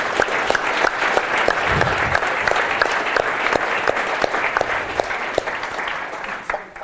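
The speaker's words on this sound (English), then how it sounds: "Let's give him a round of applause." A conference audience at a NixOS release talk gives a round of applause, with dense clapping and a few sharp individual claps standing out, thinning and fading toward the end.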